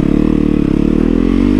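Indian Scout Bobber motorcycle V-twin engine revving loud and close, a rapid throbbing pulse that climbs in pitch toward the end, with no voices over it.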